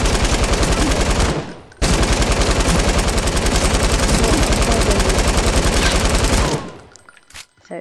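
Rapid automatic gunfire from a weapon in Fortnite, loud and close, rattling in a long unbroken burst, stopping briefly, then resuming for several more seconds before cutting off.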